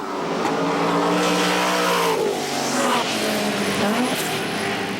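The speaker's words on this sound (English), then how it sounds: "It's all very well to buy a brand new race car" A brand new race car roars past, its engine revving loudly and continuously with rising and falling pitch and some tyre noise for about five seconds.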